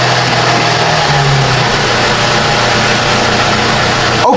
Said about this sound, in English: right now it's idling at 900 RPM